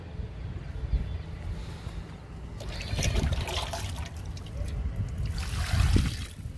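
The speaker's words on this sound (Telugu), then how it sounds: "ఈ మూడిటికి వాటర్ ఇచ్చేద్దాము" Water pours and splashes steadily onto garden plants outdoors, including bougainvillea and jasmine, with a rushing, uneven texture and some wind noise.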